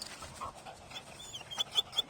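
A dog pants steadily and quietly nearby, with a few soft whimpering sounds and no clear barks.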